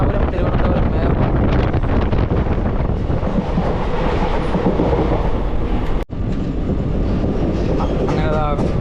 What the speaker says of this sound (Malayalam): ഇപ്പോൾ നമ്മൾ തിരുവനന്തപുരം ഭാഗത്തേക്ക് പോയത് ഏറനാട് എക്സ്പ്രസ് ആണ് കേട്ടോ.